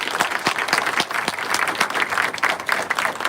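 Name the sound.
applause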